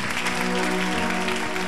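A church congregation applauds in acclaim of the Lord, a dense, steady clatter of many hands clapping together under a sustained tonal hum, brief and continuous.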